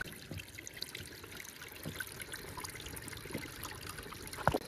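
Spring water for drinking trickles quietly through a newly laid pipe in rough hillside terrain. The soft flow stays faint and steady, with a small knock just before the end.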